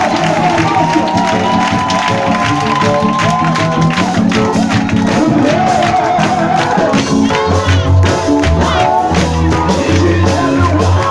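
Church congregation cheering and acclaiming during a worship service, a loud continuous roar of crowd voices, shouts and whoops with rhythmic music underneath, sustained throughout.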